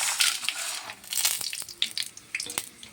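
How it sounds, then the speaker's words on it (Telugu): Peanuts, chana dal and urad dal frying in hot oil with mustard seeds and cumin, a steady crackling sizzle broken by sharp little pops throughout, close by with no voices. "ఇప్పుడు పల్లీలు శనగపప్పు మినపగుళ్ళు వేసుకుంటున్నానండి"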